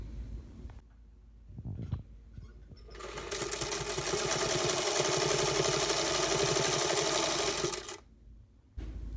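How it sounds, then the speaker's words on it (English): A sewing machine runs a straight seam on a fabric face mask, its motor whirring steadily and loudly for about five seconds after a few brief starts, then stopping. "I'm just going to sew a straight line down on this one"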